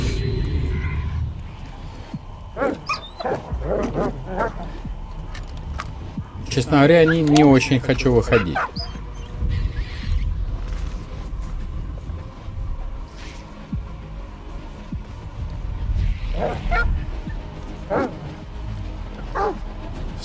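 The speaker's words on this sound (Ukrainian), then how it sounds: "Что-то гавкает" Dogs bark and yip in the shooter game S.T.A.L.K.E.R. 2: Heart of Chornobyl, scattered barks sounding near and far amid low rumbling, while someone talks over them at times.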